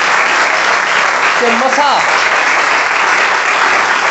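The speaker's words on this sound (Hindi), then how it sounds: "हम आगाज ही में तालियां बजाएंगे" A church congregation applauds together in a steady, loud, sustained clapping wash, with a brief voice speaking in the middle.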